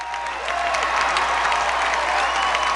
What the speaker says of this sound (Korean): 한 여성이 이때 일어서서 기립박수를 치기 시작했습니다